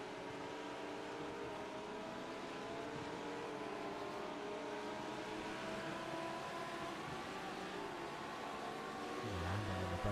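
Race cars in a Brands Hatch endurance race braking hard into the final corner, a loud continuous engine roar with shifting harmonic tones that fall and then build again on exit, filling the whole stretch without speech.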